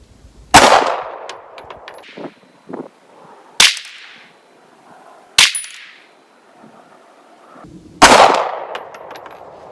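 Four loud, sharp SAR9 pistol shots fired at targets 50 yards away, spaced a couple of seconds apart, each with a ringing outdoor echo and fainter clinks and handling sounds between them.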